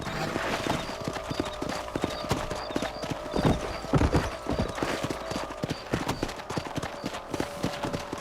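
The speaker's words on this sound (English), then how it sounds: "Let's get back on the horses and see what else is going on." Horses' hooves clip-clop steadily in Red Dead Redemption, several animals trotting together in a quick, uneven rhythm that stays close and fairly loud, with an occasional whinny and faint voices in the background.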